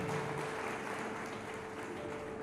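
A church congregation claps together in a brief burst of dense, steady applause that fills the room evenly from start to end.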